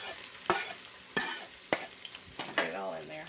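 Garlic and onion fry in leftover bacon fat over the heat, with a soft sizzle broken by four or five distinct clacks of a spoon stirring against the pan.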